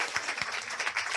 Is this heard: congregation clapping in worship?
yes